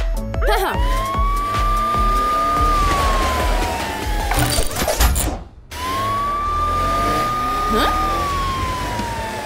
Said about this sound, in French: Je pense qu'il est temps d'utiliser ta sirène, Mathilda.